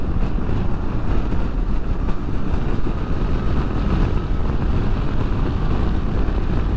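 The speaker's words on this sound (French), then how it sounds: "Franchement il y a beaucoup de vent aujourd'hui" Heavy, steady wind roar buffets the microphone of a motorcyclist riding at 133 km/h on a windy day, a dense, loud rush that runs continuously with no talk over it.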